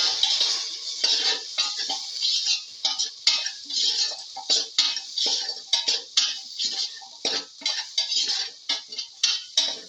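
A utensil stirs potato, scrambled egg and fenugreek leaf pilaf in a pan, scraping and clinking against the metal in quick repeated strokes, close and fairly loud with no talk.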